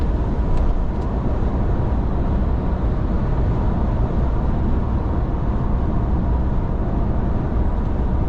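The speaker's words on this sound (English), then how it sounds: "you can hear that hum from the tires so much" Steady low tire hum fills the cabin of a 2025 RAM 1500 Rebel Hurricane pickup cruising at about 65 mph on the highway, a constant rumbling drone with no talk over it.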